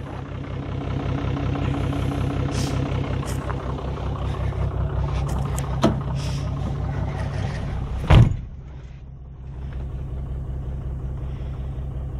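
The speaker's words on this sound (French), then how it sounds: "dès que je vais passer une vitesse, ça va enclencher le treuil et là, il va enrouler" A Toyota HJ61's mechanical winch engages and winds its cable, a steady engine-driven mechanical drone with a sharp clunk partway through, then quieter running afterward.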